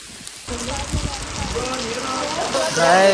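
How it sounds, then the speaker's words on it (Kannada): Steady rain pours down in Karnataka's Malenadu hill region in a dense, even hiss that starts abruptly and stays loud throughout, with faint voices beneath it. "ಆ ಥರ ಮಳೆ ಬರ್ತಿದೆ"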